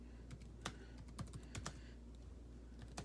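Rapid, uneven clicks of a computer keyboard being typed on, sharp keystrokes in short bursts over a steady low hum, close and fairly quiet, with no voices.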